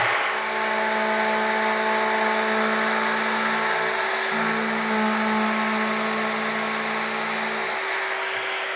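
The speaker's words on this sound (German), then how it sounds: "mit der Oberfräse machen wir hier die Kanten noch ein bisschen feiner" Wood router with a steady high-pitched whine smoothing the edges of a wooden jig, loud and continuous throughout with a brief dip in pitch partway through, no talking.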